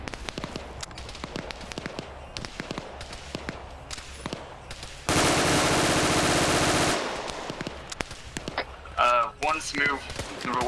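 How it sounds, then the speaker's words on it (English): Machine-gun fire in an Arma 3 World War II battle: a sustained loud burst of rapid automatic shots for about two seconds, preceded by scattered single gunshots and followed by spoken voices over the radio. "rely on my Burt gun"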